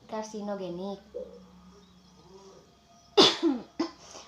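A voice speaks briefly, then two harsh coughs ring out close to the microphone, the second shorter than the first.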